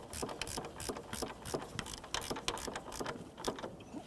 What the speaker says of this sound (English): Now I'm going to get my 24mm socket and snug it up.